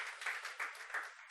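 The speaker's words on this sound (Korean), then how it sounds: "우리 수고한 미디어 팀 드라마 팀에 큰 박수 보내줍시다" A church congregation at a Holy Week Sunday service claps briefly for the media and drama teams. The short, thin burst of applause swells in a few soft waves.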